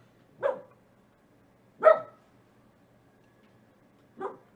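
A dog in a home gives three short, separate barks spaced about one and a half to two and a half seconds apart, fairly near, against near silence.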